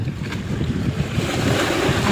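Steady wash of sea waves with a low rumbling surge and some wind buffeting the microphone, continuous throughout and no talking.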